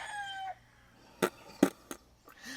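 A rooster nearby gives a short crow followed by a few sharp clucking calls, close and fairly loud outdoors, with no talking.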